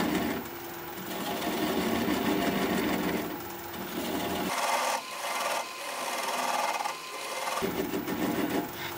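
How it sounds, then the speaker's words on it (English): A small wooden bowl spinning on a wood lathe while a swept-back bowl gouge cuts it, giving a steady rasping, scraping whir. Brief breaks interrupt the rasping where the cut eases before it resumes. "I'm going to use a swept-back bowl gouge so that I can get in there a little bit closer and just keep working it away."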